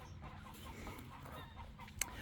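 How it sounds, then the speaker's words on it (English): Farm chickens cluck restlessly while shut in their coop, giving soft overlapping calls against a dull background with one sharper squawk near the end. "my birds are getting upset with me. They're saying it's time for us to be out of here."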